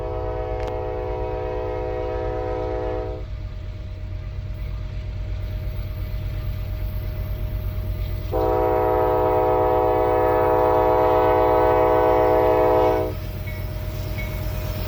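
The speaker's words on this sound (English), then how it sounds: "Kanawha River Railroad train number 50, registered as an NS loaded coal train on the West Virginia Secondary" Loaded NS coal train on the West Virginia Secondary, led by an ES-44DC locomotive, rumbles past close by with a steady heavy roar and clatter while its horn sounds in two long blasts.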